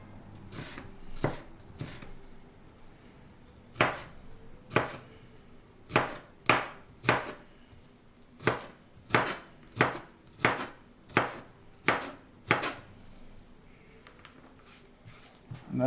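Knife making small, quick cuts on a cutting board while preparing guacamole ingredients, a series of sharp close taps, sparse at first and then a steady rhythmic run of chops, with no talking.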